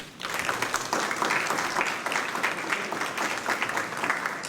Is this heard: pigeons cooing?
no